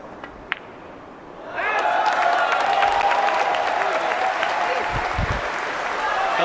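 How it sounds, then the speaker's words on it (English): Crowd at a 2024 Reyes Cup pool team match breaks into loud, sustained cheering and applause after a quiet lull, the roar rising suddenly and holding steady, with a commentator's voice beneath it. "A louder cheer for a hook you've never heard."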